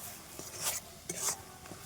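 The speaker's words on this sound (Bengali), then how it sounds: "দিয়ে খুব ভালোভাবে নাড়িয়ে নেব।" A few quick, soft stirring scrapes sound in a pan of semai with semolina and cardamom, faint and close over a low background hiss.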